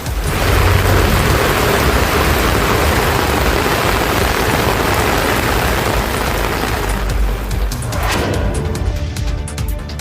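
Heavy rain pours down steadily over Thoothukudi city during a thunderstorm, a loud dense wash of rainfall with thunder rumbling underneath, continuous for the whole stretch without any voices.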